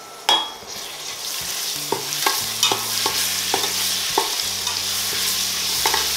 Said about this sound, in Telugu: ఇప్పుడు దీంట్లో 1 టీ స్పూన్ అల్లం వెల్లుల్లి పేస్ట్ వేస్తున్నాను